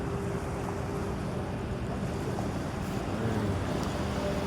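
Sea waves at the developing port of Toledo City, heard as a constant broad wash of surf with a low rumble of boats, mixed with steady wind buffeting the microphone.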